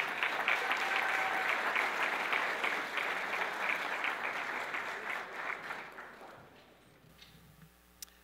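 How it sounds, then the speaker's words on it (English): Audience applause at an evening award event, steady clapping that gradually fades over several seconds into near quiet, with a faint tap at the end. "So a big round of applause"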